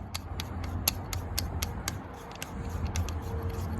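Stucchi hydraulic hose coupler on a Caterpillar 299D3 XE loader being threaded on, a series of sharp, evenly spaced metallic clicks over a low mechanical hum, close by with no talking.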